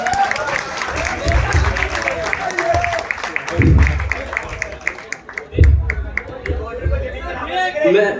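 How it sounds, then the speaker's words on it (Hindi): College audience clapping after a pharmacy-college skit about present-day politicians, scattered claps and crowd noise mixed under loud talking voices throughout. "इस परफॉर्मेंस के लिए एक बार जोरदार तालियां हो जाए।"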